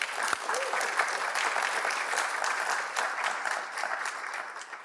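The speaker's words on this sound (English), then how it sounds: "So, round of applause for those fabulous educators." Audience applause in a symposium hall on World Teachers' Day, honouring educators: steady, dense clapping from a large crowd that holds evenly throughout and thins slightly at the end.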